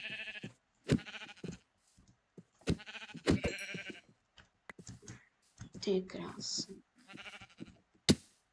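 Minecraft sheep bleating in brief calls scattered between lively talk, alongside game clicks and keyboard tapping, with people chatting over the play throughout.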